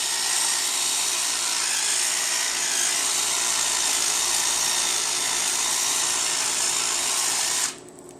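An electric nail care file runs on its high setting with a steady, close, high-pitched whine for about eight seconds before switching off abruptly.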